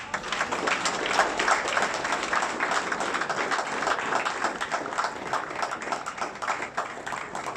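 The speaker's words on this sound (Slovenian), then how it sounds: "potegnimo ta aplavz in pospremimo z aplavzom Majo na oder" An audience claps steadily and fairly loudly at an outdoor wine-princess event in Veliki Gaber, a dense sustained round of applause as Maja Vovko walks to the stage, with a faint voice underneath.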